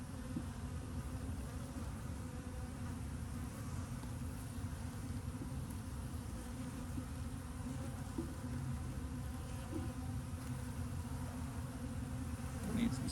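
Honeybees drone in a dense, continuous low buzz around an open brood box during a hive inspection, steady and close throughout with no clear voices over it.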